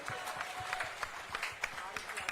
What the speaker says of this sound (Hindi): एक बार जोरदार तालियां भाई हर्ष जी के लिए